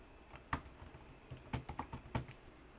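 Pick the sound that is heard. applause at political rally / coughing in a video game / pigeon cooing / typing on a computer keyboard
typing on a computer keyboard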